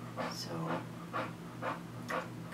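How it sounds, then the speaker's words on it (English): A boxer dog pants close by in steady, rhythmic breathy bursts about twice a second, continuing under a quiet background hum. "that's my boxer panting"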